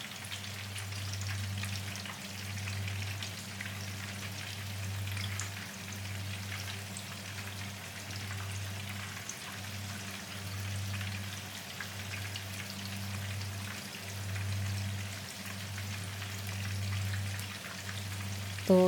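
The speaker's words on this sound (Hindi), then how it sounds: "तो जितनी देर में कोफ्ते फ्राई हो रहे हैं" Nargisi koftas fry in a pan of oil with a steady, close crackle and hiss that holds at an even level for the whole stretch, under a faint low hum.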